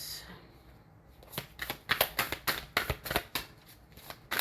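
Tarot cards being shuffled up close: a quick run of crisp, papery riffling bursts, about a dozen in steady rhythm, after a quiet start, with no voices.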